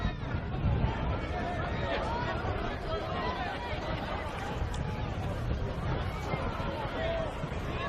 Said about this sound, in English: the Bronx cheer goes up from the Preston supporters